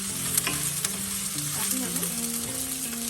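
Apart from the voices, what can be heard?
frying ginger, garlic and onion for chicken stir fry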